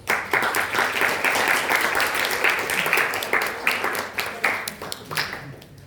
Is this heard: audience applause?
yes